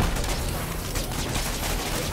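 Dense, continuous gunfire during a Spider-Man video game boss fight, a loud unbroken burst of shots with no pauses and no voices.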